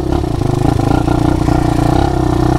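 An ATV quad engine idles steadily up close, a loud, even, rapid chugging throb with a clattering mechanical edge and no voices.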